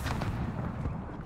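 A frag grenade detonates in a video game firefight, giving one short, muffled low boom that rumbles briefly and fades.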